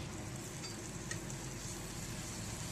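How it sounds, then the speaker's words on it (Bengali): Luchi fry in hot oil with a steady, soft sizzle, the crackle continuous and close with only a faint tap partway through. "লুচি ভেজে নিচ্ছি এখন"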